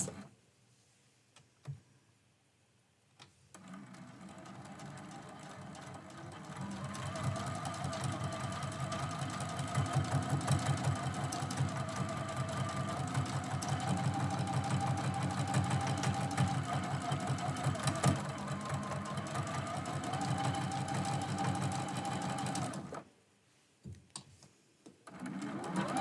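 A sewing machine stitches a quilt-as-you-go Christmas quilt block, running in a long steady whir with a fast regular needle rhythm after a few quiet taps, then stopping abruptly near the end.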